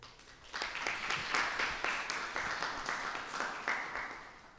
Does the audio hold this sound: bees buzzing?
no